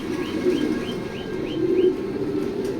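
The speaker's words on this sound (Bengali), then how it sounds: "ভালো ভালো কবুতর আছে" Racing pigeons at a loft coo in a soft, repeated series of about six evenly spaced calls over a low background hum, close by and moderately loud.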